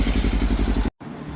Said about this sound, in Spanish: lo ideal es prender la moto, ¿sí? Y dejarla unos 3 minutos que recorra el aceite por todo el motor.